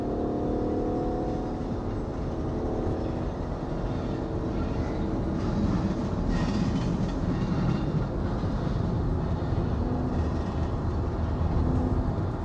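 A train rumbles past up close, a loud, continuous rolling roar of rail noise with faint rattling and clacking throughout.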